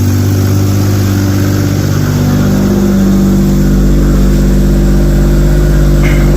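A BMW M340i's B58 engine runs steadily after a cold start with a loud, low hum close by, idling evenly with a slight rise in pitch.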